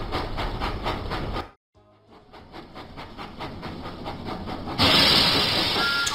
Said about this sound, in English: Thomas puffed proudly into Farmer Trotter's farm.